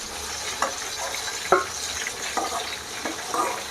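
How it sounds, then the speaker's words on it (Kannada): Mutton keema balls fry in hot oil with a steady sizzle, broken by a few soft stirring or scraping sounds, close and moderately loud, with no voices. "ಹಿಂಗೆ ಥರ ಇವಿಷ್ಟು ಉಂಡಿನ ಎಣ್ಣೆಗೆ ಕರ್ದು ಕರಿಬೇಕು"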